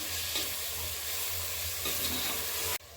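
Yogurt and mint sizzle while being sautéed for Vellore chicken biryani, a dense even frying hiss with a low rumble that cuts off abruptly near the end.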